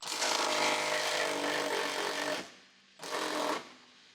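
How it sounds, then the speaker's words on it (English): An electric impact wrench with a 21mm deep socket loosens a bolt on a 2011-2018 Jeep Wrangler JK, giving a loud, close rattling burst of about two seconds, a short pause, then a second shorter burst. "Use the 21mm deep socket with the electric impact wrench to loosen the bolt."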